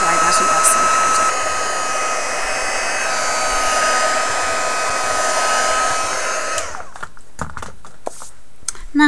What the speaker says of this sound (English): on the hot setting on your heat tool, just going to pick up the canvas, and I'm going to dry that embossing powder